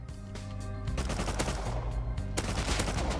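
Rapid automatic gunfire in a video game, a dense, continuous burst of quick shots at moderate loudness, layered with game music or tones and no talk over it.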